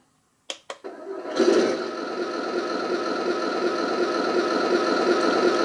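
A couple of sharp clicks, then a Heng Long Leopard 2 A6 RC tank's sound module starts a small engine-like drone that settles into a steady, rattling idle, gradually growing slightly louder.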